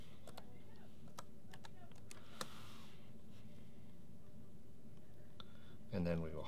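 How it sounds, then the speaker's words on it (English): Computer keyboard typing during label design on a Brother QL-800 label printer setup: a short run of light, quick key clicks near the start, then quiet, with a louder rattling burst at the end. "then we'll type the word danger in"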